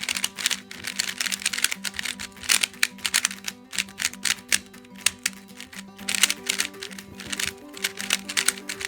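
A Diansheng Guhong V2 3x3 Rubik's cube turned steadily in the hand, giving dense, close, rapid clacky plastic clicks in bursts with short pauses, with no talking.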